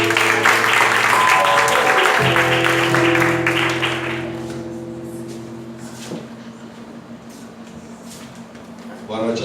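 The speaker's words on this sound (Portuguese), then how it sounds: "que todos aplaudam o Senhor" A congregation at an evening church service applauds, with dense clapping over sustained music that fades out after about four seconds, leaving the held tones and a few scattered claps.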